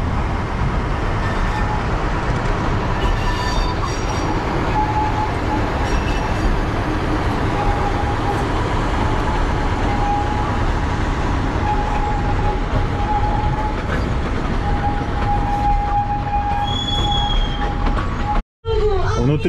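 Diesel passenger train in Karaganda region, Kazakhstan, heard from inside a carriage as a continuous loud rumble of wheels and engine with faint squeals, briefly cut off near the end.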